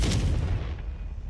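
Confringo blasting curse explosion in the Hogwarts Legacy video game, a single sharp, heavy boom with a rumbling low decay fading over about a second.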